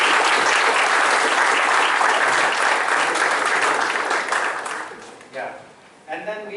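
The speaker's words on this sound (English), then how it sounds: "one final round of applause for the team" Warm crowd applause for a team at a corporate screening event, full and steady at first, then thinning out and fading as a few voices start talking near the end.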